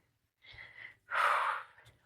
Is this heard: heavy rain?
no